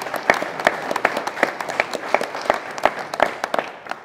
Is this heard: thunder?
no